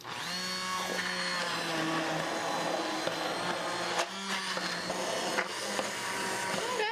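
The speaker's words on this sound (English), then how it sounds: "I'm gonna use the immersion blender and make this look nice and smooth" An immersion blender whirs through butternut squash soup, a steady close motor whine with shifting pitch and brief dips as the blade moves through the pot, running alone without talk.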